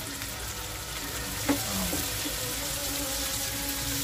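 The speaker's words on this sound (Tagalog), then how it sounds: "Isa na natin ang bawang, sibuyas, luya, kamatis." Garlic, onion, ginger and tomato sizzle steadily in a hot pan while cooking clams, with a brief clink of a utensil partway through and a constant frying hiss.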